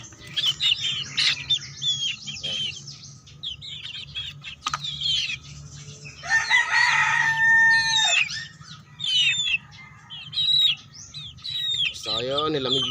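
Chicks cheep and chirp near the microphone on a farm, high and insistent in scattered bursts. Chickens cluck and a rooster calls among them, and a voice speaks softly at times.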